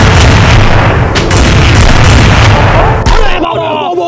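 Loud, dense gunfire and booming blasts from the Free Fire battle game fill the scene almost continuously, dropping away abruptly near the end.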